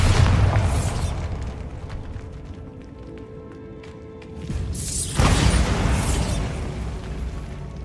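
Spell explosion effects in the video game Hogwarts Legacy, a broadband burst near the start and another loud blast around five seconds in, with rumbling game ambience carrying on between them.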